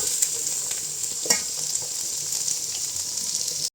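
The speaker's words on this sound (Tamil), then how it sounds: "இப்போ போட்டோம் பாருங்கள், கேப்சிகம் கட் பண்ணி வச்சது நல்லா வதங்கட்டுங்க." Green chillies and cut capsicum stir-frying in hot oil make a bright, steady sizzle, close and continuous, with a couple of soft scraping stirs and no voices.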